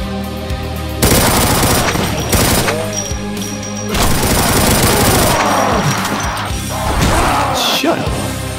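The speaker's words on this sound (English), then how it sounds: "They got machine guns?" Machine guns blaze in the Doom Project Brutality game: loud, rapid, sustained automatic fire punctuated by heavy booms and crashing impacts, pounding almost continuously at close range.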